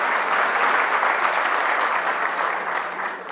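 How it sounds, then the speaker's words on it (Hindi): Steady applause from an audience, dense clapping that holds evenly for a few seconds before starting to fade. "तो ये तालियां जो हैं"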